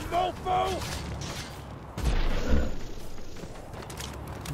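Video game gunfire in Loopmancer crackles in a burst midway, mixed with game sound effects, following a short stretch of speech at the start.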